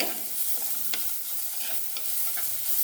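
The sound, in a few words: stirring sizzling fish curry masala with a spoon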